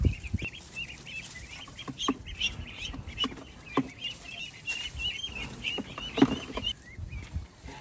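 Six ducks being caught and dropped into a bucket, with bursts of wing flapping and scattered quacking and clucking calls, close and uneven throughout.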